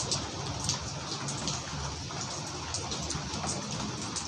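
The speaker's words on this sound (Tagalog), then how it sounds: "patak ng ulan" Steady rain pattering on a surface, dense and continuous with scattered louder drops, close by and even throughout.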